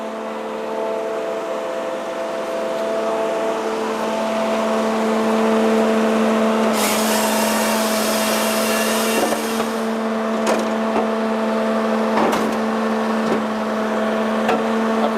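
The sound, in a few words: log splitter running in a woodyard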